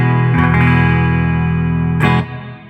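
Sustained electric guitar chords ring out cleanly, played in the middle pickup position, with a couple of strums restruck and the last one fading.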